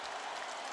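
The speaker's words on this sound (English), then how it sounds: "This crowd is on its feet." In an EA Sports UFC 3 fight, an arena crowd roars and cheers in a dense continuous wash, brief and fairly loud.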